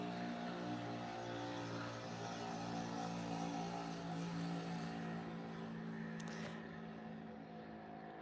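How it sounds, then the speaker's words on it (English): A scooter passes outside an open window on a rainy day, its engine a steady, fairly faint drone that holds for several seconds with no talking. "we'll wait for the scooter"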